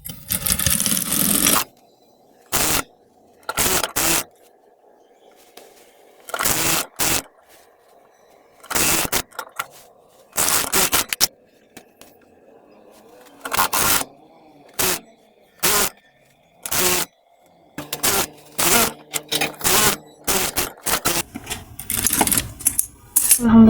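Sewing machine stitching seams on a salwar, running in repeated short bursts of rapid stitching separated by pauses, close and fairly loud, with faint background sound between runs.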